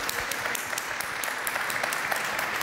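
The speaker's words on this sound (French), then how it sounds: "Et j'aimerais ça qu'on les applaudisse" An audience at a manufacturing innovation forum breaks into steady, dense applause, a continuous close wash of many hands clapping with no voices over it.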